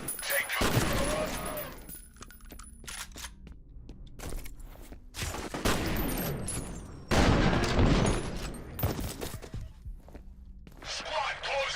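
Suppression gunfire in the F.E.A.R. Extraction Point DLC sounds as loud, dense bursts of shooting with sharp impacts. Quieter gaps fall between bursts, and a voice is heard now and then.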